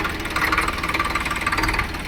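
A Sonalika 12+12 tractor engine runs while the tractor moves forward, a loud, steady diesel chug with a rapid, even knocking pulse throughout.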